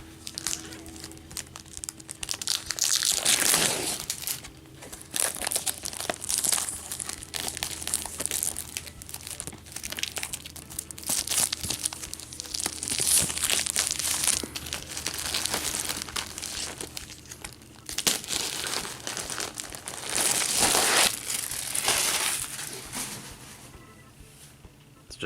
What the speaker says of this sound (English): all the tapes also individually sealed, so I have to pull them out and kind of slit the bottoms